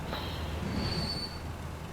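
A train rolls along in Transport Fever 2: a steady low rumble of wheels runs throughout, with a thin, high metallic squeal drifting over it. The sound is moderately loud and continuous, with no voices.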